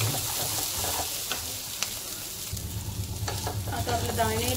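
Cumin seeds roast in a pan together with green pigeon peas, garlic and chillies, giving a continuous crackling sizzle with a few sharp clicks of stirring against the metal.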